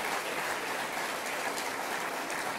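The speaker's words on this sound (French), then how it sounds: "vous pouvez encore applaudir le travail qui a été réalisé" Continuous audience applause at a mayor's New Year address in France, a dense hissing wash of clapping heard from a distance, steady throughout the short stretch.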